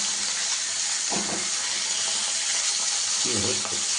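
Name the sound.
hilsa fish frying in a pan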